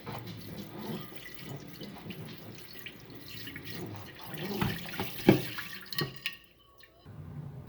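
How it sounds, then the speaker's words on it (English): LECA clay pebbles are rinsed under running water, with a steady faucet stream, gurgling and rattling of the clay balls, and louder splashy bursts near the end. "And now I just like to rinse it one more time,"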